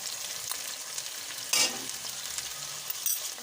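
Okra fries in a pan with tomatoes and salt, giving a constant close sizzle with a few brief louder stirring scrapes and no voices.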